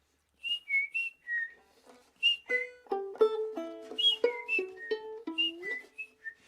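Human whistled imitation of a chickadee mating call, a series of clear piping notes in short runs and rising and falling phrases, close and alone against silence.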